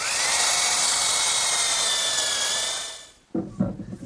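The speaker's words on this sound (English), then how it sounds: "I'm ready to drill the holes using a half-inch brad point bit" A half-inch brad point bit bores through two stacked pieces of wood, giving a steady whining, grinding drone that stops abruptly near the end, followed by a few short knocks.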